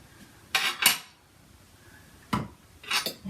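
A small kitchen bowl is moved aside on a counter, giving a few short scraping clunks and clinks spaced out in a quiet room, with no speech.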